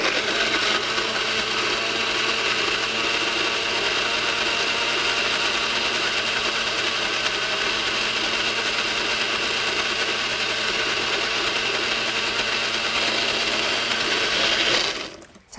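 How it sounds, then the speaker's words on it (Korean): Kitchen blender grinding fresh ginseng into a smooth sauce, a loud steady whir running for about fifteen seconds before cutting off abruptly at the end. "이거 그대로 다 갈아주세요."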